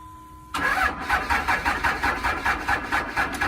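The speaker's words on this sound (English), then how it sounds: "Someone complained about me cold starting my trucks." A construction truck's engine cold-starts abruptly, catching into a loud, rough, pulsing idle with a rhythmic lumpy beat; a faint steady tone precedes the start.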